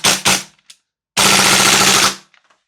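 An airsoft Noveske MWS rifle fires loud, close bursts: two quick short volleys, a lone shot, then a long rapid full-auto stream lasting nearly a second, with faint mechanical clicks trailing after.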